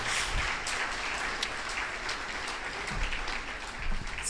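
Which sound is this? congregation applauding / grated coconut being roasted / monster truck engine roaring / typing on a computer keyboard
congregation applauding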